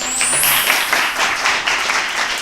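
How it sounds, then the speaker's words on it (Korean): Steady applause and clapping from a crowd at a taekwondo competition event, fairly loud and sustained throughout without pauses, with a faint high whistle-like tone near the start. "박수 한번 주세요."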